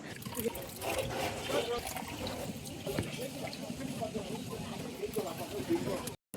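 Water poured into a cooking pot on a stove to boil peas and potatoes makes a steady, close splashing trickle that runs for several seconds over a busy kitchen background.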